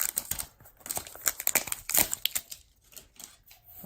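Crinkling plastic wrapper of a Pokémon TCG booster pack being torn and pulled open, with a dense run of close, loud crackles and rustles that thin out toward the end.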